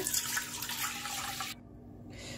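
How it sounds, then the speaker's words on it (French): Warm milk poured into the bowl of a stand mixer for a brioche starter, a steady continuous liquid stream, close and fairly loud, that cuts off abruptly near the end. "Dans la cuve du pétrin, je vais tout d'abord préparer mon levain. Pour cela, je vais mettre 200 ml de lait tiède."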